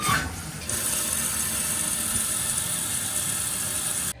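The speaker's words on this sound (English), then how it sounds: "Let's reconnect the water supply. Turn the water on." A Kohler toilet tank refills after its water supply is turned back on, a steady loud hiss of rushing water that starts abruptly and runs evenly before cutting off.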